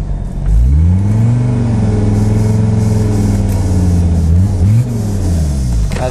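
A 1982 Mercedes 300TD diesel wagon with a straight-pipe exhaust drives by, its loud, close engine drone rising and falling in pitch through acceleration and a brief gear change.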